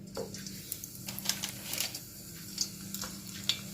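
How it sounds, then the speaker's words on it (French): Makrout, semolina pastries, fry in hot oil: a faint, steady crackle and sizzle with small popping bursts, close by and quiet, with no voices. "Voilà, mon huile est chaude. On va faire cuire les premières."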